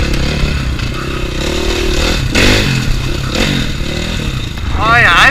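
Motorcycle engine running after sitting unused for six months, a steady rough idle with clattering mechanical noise and a few slight revs, close and loud, with a person talking over it.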